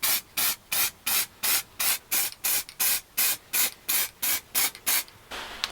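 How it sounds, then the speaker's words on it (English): Short bursts of silver spray paint lightly coating car parts for a Sapphire RS Cosworth front end, about fourteen evenly spaced hissing puffs, close and loud, ending with a slightly longer softer spray. "We're going to give them a quick flash over with the silver paint."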